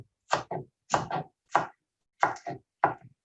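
Five sharp, close chops of a knife cutting an onion on a cutting board, each a quick double knock in an uneven rhythm, with silence between and no talking.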